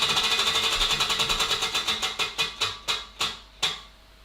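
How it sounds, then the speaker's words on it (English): A prize wheel spins and slows down, its pointer clicking rapidly at first and then in ever more widely spaced ticks until it stops, loud and close with no talking. "Let's spin the wheel."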